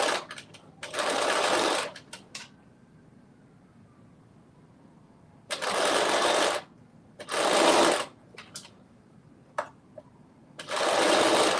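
A sewing machine stitches elastic to fabric in quick bursts, four longer runs of fast whirring separated by pauses and small clicks, close and clear with no talk.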